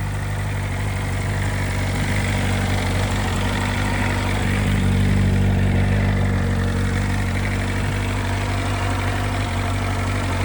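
A BMW M1000RR motorcycle fitted with a loud aftermarket exhaust idles steadily while warming up, giving a constant, close, deep rumbling drone with no change in revs throughout.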